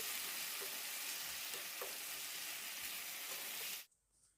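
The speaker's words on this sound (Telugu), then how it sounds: "ఆనియన్ కొద్దిగా సాఫ్ట్ అయ్యేంత వరకు ఫ్రై చేసుకుంటే సరిపోతుందండి" Onions and mixed vegetables sizzle steadily in a hot pan for paneer roll filling, a dense continuous frying hiss with a few soft pops and stirring knocks, cutting off abruptly near the end.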